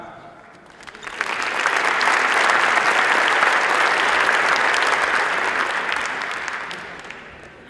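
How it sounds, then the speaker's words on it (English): At a startup funding event in Rotterdam, an audience welcomes a founder with applause that builds within a second into a full, loud wash of clapping, holds for several seconds, then gradually fades. "I want you to hand an applause for the founder of Meds2Go, Carla."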